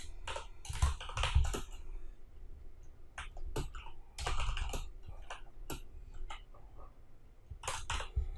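Someone types PHP code on a computer keyboard in bursts of quick clicking keystrokes, close and fairly quiet, with pauses between runs and no speech.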